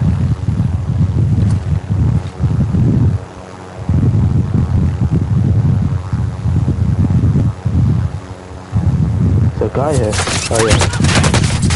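Rapid bursts of video game gunfire fill the scene, dense and loud, with brief pauses between long volleys and a player's voice talking over the shooting.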